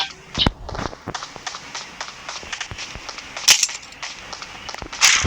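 Machine gun fire in PUBG Mobile comes as scattered sharp cracks and short bursts of shots, irregular and fairly close, with a busier rattle near the end.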